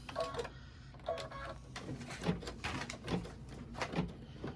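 A home embroidery machine stitches a tack-down line on vinyl in a hoop, giving quiet rhythmic clicking and whirring pulses at close range.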